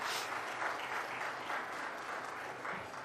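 Audience applause welcoming India's External Affairs Minister to a televised interaction, a sustained, even round of clapping from a crowd, moderately quiet and steady from start to finish.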